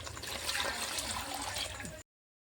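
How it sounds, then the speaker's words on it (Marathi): Water pours and splashes steadily into a pan of fish curry for about two seconds, fairly quiet and close, then cuts off. "आता पाणी टाकून घेते"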